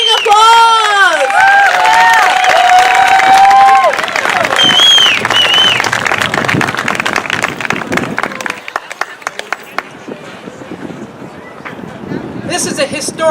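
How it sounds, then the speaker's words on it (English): Outdoor crowd at a women's march rally bursts into applause, loud sustained clapping and cheering that starts at full strength and gradually thins out toward the end, mixed with whoops. "Let's give them a round of applause."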